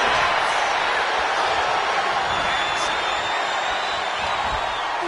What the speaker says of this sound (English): Thunderous applause for these competitors. A wave of sound coming from every corner